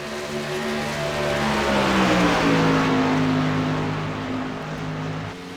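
Race cars in an SRA Tornado Tailgater race at Michigan International Speedway roar past the start-finish line at night, several engines droning together with pitch dropping as they sweep by, loud and steady throughout.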